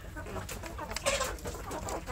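Village chicken chicks peep and cluck softly while eating wet feed in a sunny rearing pen, a faint, busy chorus of short calls close by.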